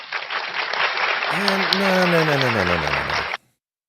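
A dense wash of debate audience applause at a Jewish center runs for about three seconds, with a voice speaking over it before everything cuts off abruptly.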